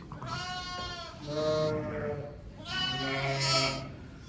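Several lambs only one to four days old bleating close by, long wavering cries that overlap and come in two main bursts.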